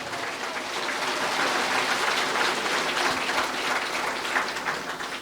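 Steady applause from a church congregation, a dense, even patter of clapping that continues throughout without voices.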